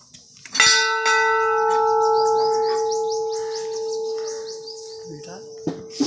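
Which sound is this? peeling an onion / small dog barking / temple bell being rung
temple bell being rung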